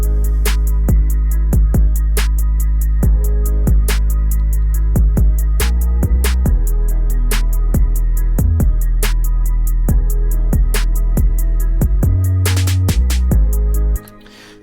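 Memphis-style kick pattern doubled by a pitched sub 808 bass following chord root notes, a heavy sustained low rumble shifting pitch under punchy kicks and steady hi-hat ticks, ending abruptly.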